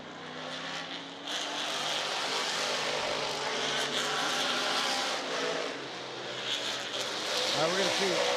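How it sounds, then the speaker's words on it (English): The number 15 Roush Mustang race car roars past at a historic IMSA GTO race, a loud sustained engine drone that builds and fades from a distance while a commentator talks over it. "There goes the 15 right there, that Roush Mustang."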